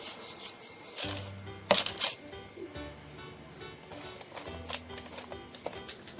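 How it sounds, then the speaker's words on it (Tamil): Oil rubbed by hand onto a plastic cover before pressing rice-flour thattai dough: soft, close, faint rubbing and crinkling strokes, with a few louder scrapes near the start, under steady tonal background sound. "ஒரு பிளாஸ்டிக் கவரில் எண்ணெயை தேய்ச்சிக்கலாம்"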